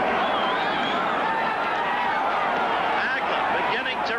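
Boxing arena crowd roaring in response to Vito Antuofermo landing a heavy left on Marvin Hagler, a dense continuous swell of cheering and babble held loud throughout with no single voice standing out.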